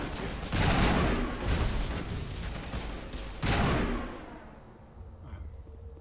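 Heavy sustained bursts of gunfire from a weapon in the Mass Effect video game, two loud volleys up close, then the shooting trails off into quieter distant rumble.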